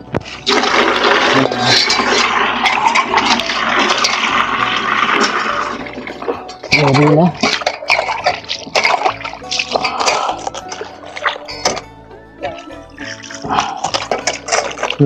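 Raw meat being rinsed in water gives loud splashing and sloshing with gushing runs of water, broken by short pauses and smaller splatters, close by.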